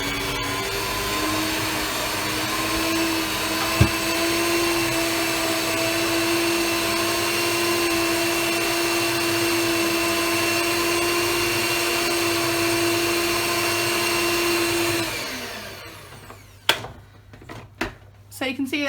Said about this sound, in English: you're going to beat the mixture until it's combined